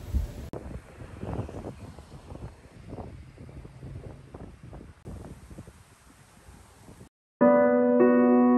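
Strong wind buffets the microphone at a seaside sunset spot in Cancun, a continuous low rumbling roar that drops out abruptly near the end, where music begins.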